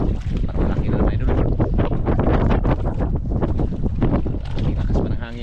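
Strong wind buffeting the microphone in a loud, continuous roar, likely from a small boat on open water, with people talking underneath.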